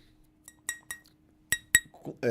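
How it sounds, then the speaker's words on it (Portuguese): A coffee cup being handled, with several short bright glass clinks in quick succession, followed by faint murmuring voices at the end. "Eu tô com meu copo de café aqui, vou mostrar pra vocês."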